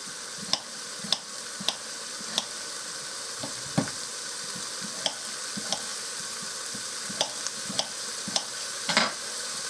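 Steady crackling sizzle of potatoes frying in a pot, with occasional sharp clinks and scrapes of stirring over the constant hiss.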